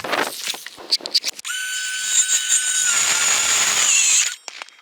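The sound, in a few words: power saw cutting wood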